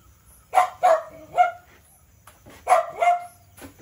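A farm dog barks in a few sharp, close bursts, two quick barks followed by a pause and then another pair, with no voices in between.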